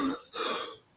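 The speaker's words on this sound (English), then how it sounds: "I don't like being that one that coughs all the time" A person coughs twice, close and loud, one harsh burst right after the other, with no other sound around it.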